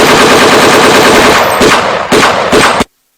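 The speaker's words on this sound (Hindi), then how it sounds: "अचानक फायरिंग शुरू हो जाती है।" Sudden burst of automatic gunfire in an army ambush demonstration in Jaipur ahead of Army Day, rapid loud continuous shots rattling for nearly three seconds, then cutting abruptly to silence.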